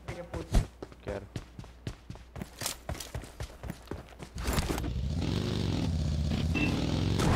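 A motorcycle in a video game starts up and runs with a steady, rising engine drone after several seconds of clattering, thumping game sounds, and the engine stays close and continuous to the end.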